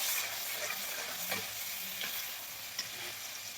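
Food stirred in a frying pan with steady sizzling and a few scraping stirs, close and continuous, with no talking.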